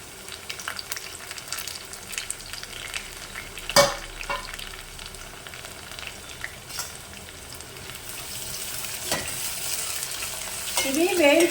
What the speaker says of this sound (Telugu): కొంచెము బ్రౌన్ కలర్ వచ్చేంత వరకు వేయించుకోవాలి